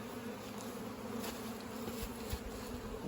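Honey bees buzz around a nuc hive box in a soft, continuous hum, with faint rises as individual bees fly past.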